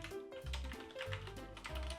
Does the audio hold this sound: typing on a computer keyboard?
yes